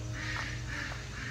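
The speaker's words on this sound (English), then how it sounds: "Here are the chickens and ducks." Ducks on a farm kept alongside chickens, giving a couple of short nasal quacks close by over a steady low outdoor hum, with no talking.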